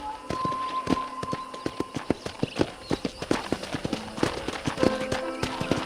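Horse hooves clip-clop steadily while riding toward a ranch in the video game Red Dead Redemption, a brisk, even rhythm of close hoofbeats with faint background ambience.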